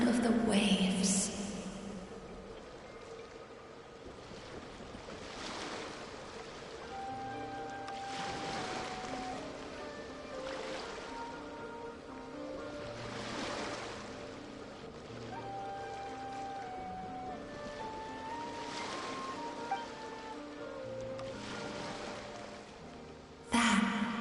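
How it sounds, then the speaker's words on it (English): Ocean waves rolling in with slow, repeating swells of broadband wash, moderately soft and sitting under a gentle melodic music track. "Go to where you can hear the sound of the waves."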